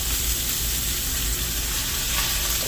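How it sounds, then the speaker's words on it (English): Leafy greens sautéing in oil in a non-stick skillet over a lowered flame, a loud, dense, steady hiss close up with faint stirring movement and no voices. "just saute it in there."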